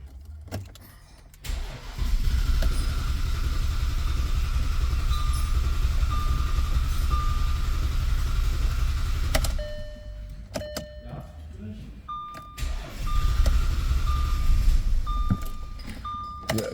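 A 2009 Audi Q7, just fitted with a new high-pressure fuel pump, cranks and starts, then idles as a steady low engine rumble before cutting out, followed by brief electronic beeps and a restart.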